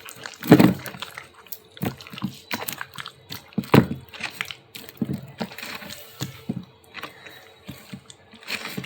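Milk pours into a sweet prasad mixture of sinni, a wet splashing and gurgling near at hand with soft knocks and stirring scrapes between the pours, no talking.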